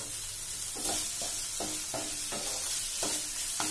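Paneer bhurji with garam masala being stirred in a pan: a steady sizzle broken by a regular series of spoon scrapes, about one per half second, close and with no voices.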